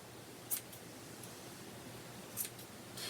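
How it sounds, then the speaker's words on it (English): Scissors snip yarn to trim a pom-pom, with three crisp, quiet cuts spaced about a second or two apart in a still room. "so that you can go and cut those little guys"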